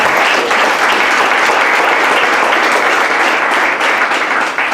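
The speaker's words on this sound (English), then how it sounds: "Another round of applause for everyone." An audience at an undergraduate incubator pitch event breaks into sustained, loud applause, dense clapping holding steady throughout with no voices over it.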